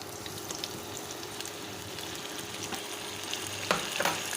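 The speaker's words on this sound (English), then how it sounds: "We will fry the potatoes. And we will add this beef." Potatoes and beef frying in a pan for Filipino beef afritada, a steady broadband sizzle throughout with a couple of louder utensil scrapes near the end, no talk.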